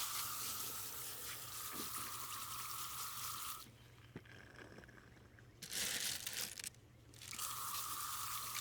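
Water runs and splashes while tumbled items are rinsed after the soap cycle, a steady close hiss that stops partway through, then briefly returns before flowing again, with faint scrapes underneath.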